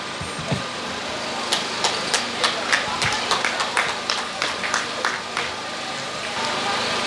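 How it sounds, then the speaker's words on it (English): Scattered applause for awardees at an old students' association anniversary celebration for Ijebu-Imusin Comprehensive High School, Ogun State: a few separate claps rising into light, moderately distant clapping over a steady background hum. "A round of applause. Congratulations."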